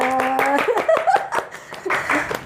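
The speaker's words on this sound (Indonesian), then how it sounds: "Tepuk tangan." Several people clap briefly in a studio talk-show setting, scattered hand claps mixed with voices and a little laughter.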